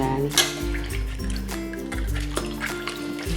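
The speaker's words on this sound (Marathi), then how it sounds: "प्रथम ब्रशने आणि क्लीन करून घ्यायचं करून पाण्याने स्वच्छ धुवून घ्यायचे" A kitchen strainer is rinsed clean under running water, giving an uneven splashing and trickling with a few drips, close by and moderately loud.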